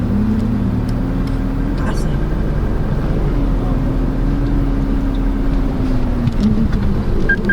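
A 2024 Mitsubishi Montero Sport GLS 4x2 automatic climbs an obstacle ramp at about 1,500 RPM, its engine a steady, loud, close drone with a low hum that dips and rises slightly throughout.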